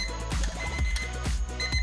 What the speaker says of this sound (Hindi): अलार्म का साउंड की बात करें तो बहुत ही बेहतरीन साउंड है बहुत तेज़ आवाज़ है इसकी